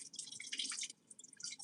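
Water drips and trickles faintly while an onion is rinsed, in a few quick, uneven splashes.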